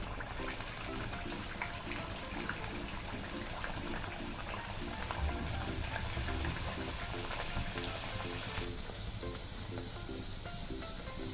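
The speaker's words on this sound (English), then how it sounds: "Now we'll drop this puri into the oil. And we have to fry this on low flame." A palak coriander puri deep-fries in oil over a low flame, giving a constant close hiss and bubbling crackle that stays even throughout and softens slightly toward the end.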